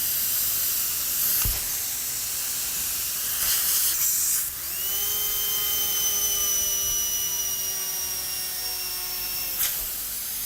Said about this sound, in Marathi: गॅसवरती न ठेवता कुकर शिटी वाजवायला लागला